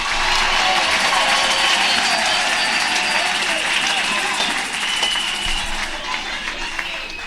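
A church congregation claps and cheers in praise, a dense, steady roar of applause and voices filling the room for several seconds before tapering slightly, with a voice speaking over it.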